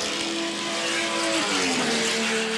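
A 1981 sports sedan race car roars past on the Wanneroo Park circuit, its loud engine note holding steady then dropping in pitch as it goes by, close and continuous with a broad wash of noise.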